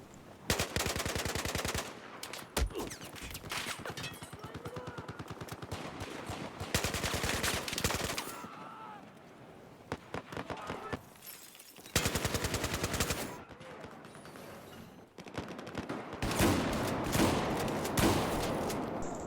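Bursts of automatic and single-shot gunfire in a Battlefield 4 Gun Master match, loud, close and sharp, broken by short quiet gaps between volleys.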